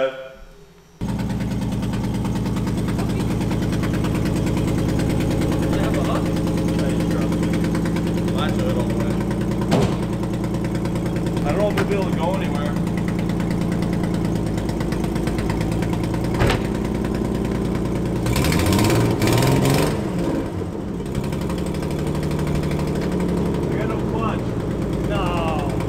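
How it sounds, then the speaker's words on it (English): A Nissan Skyline engine idles steadily with a ragged, puffing exhaust note from a bad exhaust leak, and a few voices talk over it near the end. "Why is the exhaust leak so bad?"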